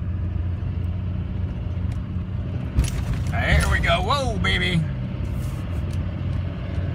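Chevy truck engine rumbling as it climbs a slick, leaf-covered hill, a low steady drone with a jolt and louder surge partway through, while someone talks excitedly over it.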